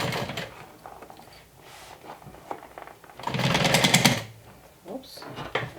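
Sewing machine stitching through thick layers of a medium crossbody tote bag: a brief, fast mechanical whirring run of about a second, close and fairly loud, with a person talking quietly before and after.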